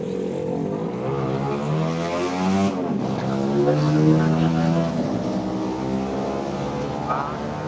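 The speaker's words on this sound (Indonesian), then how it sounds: "Ya ada suara motor" A motorbike engine drones close by, its pitch rising and falling as it passes.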